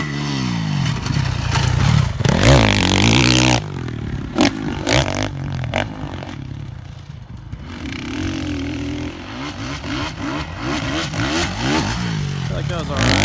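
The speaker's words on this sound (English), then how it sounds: "we'll see if he gets better driving the whoops" A supercross dirt bike riding through whoops on a training track revs and surges, the engine rising and falling in rough waves over the bumps, close and loud, with some clatter.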